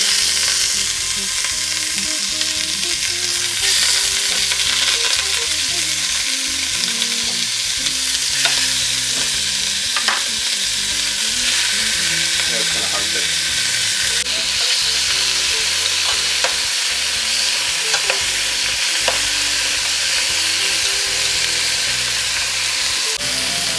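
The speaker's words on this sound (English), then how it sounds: "So you can see it's searing." Beef rouladen meat rolls sear in a hot buttered pan with a loud, continuous close sizzle and crackle that holds steady throughout, with no talking.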